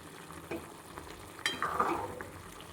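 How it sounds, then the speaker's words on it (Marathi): Quiet sizzling of spiced liver frying in a pan that rises after a clatter midway, with stirring and frying crackle continuing to the end. "आता आपल्याला हे फक्त फ्राय करून घ्यायचं आहे"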